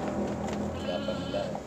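Priangan sheep bleat in a livestock pen, several short, wavering cries close by over steady background noise.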